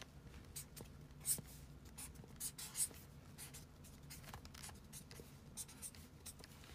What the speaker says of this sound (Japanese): 小学校の時のペンで描く。